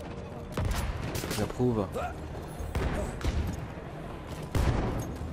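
Gunfire from a weapon in Battlefield 1 comes as several sharp, loud shots in separate bursts, with a player's voice heard briefly between them.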